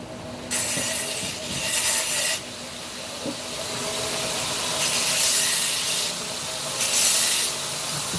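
A chef's knife being ground on a 60 grit belt grinder during a live demo at a farrier supply shop, with repeated loud hissing grinding passes of a few seconds each over a steady motor hum, no talking.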